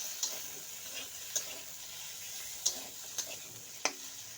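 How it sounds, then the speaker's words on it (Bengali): Chopped tomatoes frying in a pan with cumin, turmeric and salt, heard as a quiet, even sizzle broken by a few sharp clicks and taps, with no talking. "টুকরো করা টমেটোগুলি দিয়ে দিলাম।"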